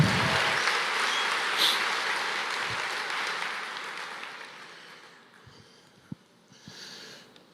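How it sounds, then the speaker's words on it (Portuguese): A church congregation applauds in a broad, sustained wash that slowly fades toward the end, leaving a few scattered claps and rustles. "Aplauda mais"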